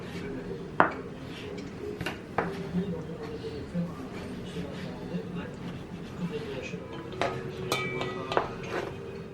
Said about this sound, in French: On coupe l'aubergine.